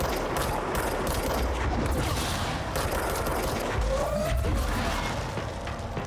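Bursts of gunfire from shooting at enemies in the action game Control, a dense crackling rattle running continuously with metallic clanks and creaks mixed in.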